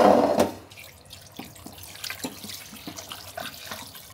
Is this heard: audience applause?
no